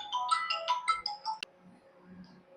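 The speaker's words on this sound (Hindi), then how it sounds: "एक मिनट, एक अर्जेंट फोन है, थोड़ा इसको अटेंड कर लेते हैं" A phone ringtone for an urgent call plays as a short melodic burst of bright tones over about a second and a half, then cuts off, leaving quiet room tone.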